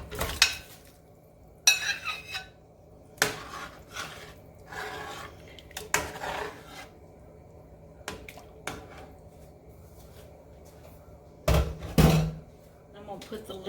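Beef tips go back into a pan and are stirred, giving scattered scrapes and clatters with a soft sizzle underneath, interrupted by pauses and a louder clang near the end.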